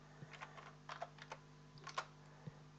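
Quiet keystrokes on a computer keyboard as a single word is typed into a Microsoft Excel cell. A handful of soft, close clicks come in small clusters over a low steady hum, with no one speaking.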